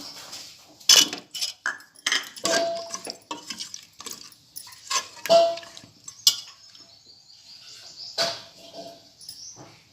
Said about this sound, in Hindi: अब इसमें मैं बटाटे डालती हूँ।